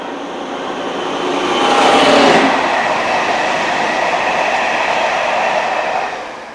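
A Class 37 diesel locomotive hauls unrefurbished Piccadilly line tube stock in 1998 on the Greenford Loop West Curve from West Ruislip Depot, a loud rumble swelling as it passes close by, then holding steady before fading.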